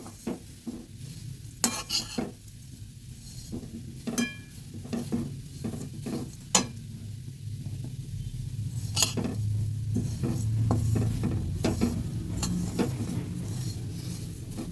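Vermicelli frying over medium heat in a pan, a steady soft sizzle under repeated clinks and scrapes of a utensil stirring against the metal, close and continuous with no talking.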